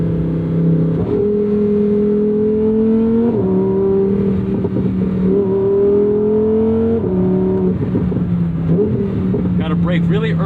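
A 2024 Lamborghini Huracan Sterrato engine revs hard and close, climbing through gears with brief dips at each shift before rising again, loud and sustained.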